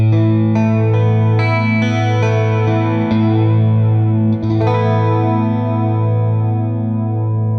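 Electric guitar run through a chorus pedal, with a series of plucked notes and chords that ring out into a shimmering, wavering sustain, steady and close with no talking.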